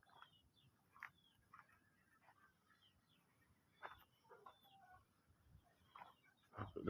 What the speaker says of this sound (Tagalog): May manok.